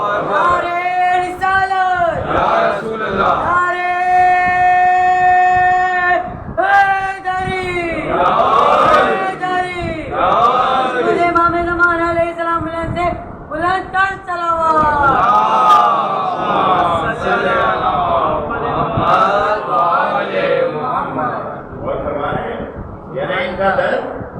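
A majlis crowd answers the takbir slogan, chanting Allahu Akbar in loud massed bursts, with a leader's voice calling between the responses.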